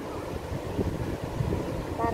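Wind buffets the microphone on Bangsaen beach in Chonburi, Thailand, a steady low rushing roar with faint gusty swells, while a voice talks softly underneath.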